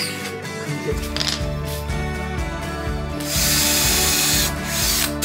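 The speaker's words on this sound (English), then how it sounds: "I'm going to put extra screws along the bottom" Power drill driving screws along the bottom of a shower being built in a camper van conversion, with close, loud rhythmic ratcheting clicks of the clutch and a harsh burst of whirring near the end.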